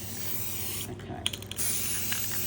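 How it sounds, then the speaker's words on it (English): Rust-Oleum spray paint is applied in short hissing bursts, near and moderately loud, with a brief break between sprays. "all I'm going to do now is spray it with the"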